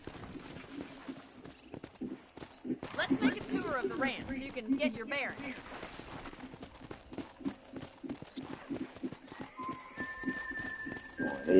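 Hooves of a horse clatter on a ranch in the video game Red Dead Redemption, a steady walking rhythm with a whinny, heard under a man's speech and game music tones.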